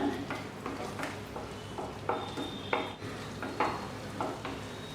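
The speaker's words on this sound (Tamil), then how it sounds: "இப்போ முட்டையை ஊற்றலாம் முட்டையை ஊற்றினோன்னு கிண்டி விட ஆரம்பிச்சிருங்க" Egg frying with onion, tomato and masala for egg kothu bread is stirred vigorously in a pan, with repeated scraping clatters of the spatula over a soft underlying sizzle, close by.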